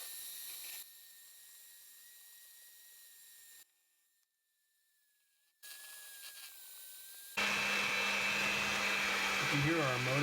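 A mixer motor strains and bogs down while kneading heavy babka bread dough, its loud grinding whir filling the last few seconds after quieter stretches and a brief silence.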